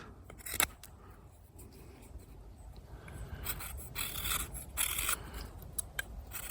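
Carbon-steel Opinel No. 8 knife with a factory edge carving feather sticks from wood: close, dry scraping and shaving strokes with a few sharper snaps, fairly quiet and with no speech.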